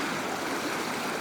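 A creek swollen by heavy rain surges past in a continuous, loud, close roar of rushing floodwater with no voices.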